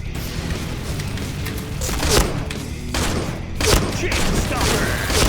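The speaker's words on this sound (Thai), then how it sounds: "แต่คือซองตัวเนี้ย เวลายิงเนี่ยเราจะสังเกตได้นะครับว่า" Shotgun fire in the first-person shooter Point Blank, a dense run of loud blasts and thuds with mechanical clatter, continuous and close with no pause throughout.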